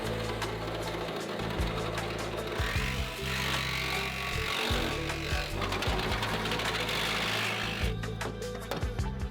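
A power tool cuts through a body part on a three-rotor rotary-engine race car, giving a steady, close, grinding-buzzing drone with brief dips as the cut shifts.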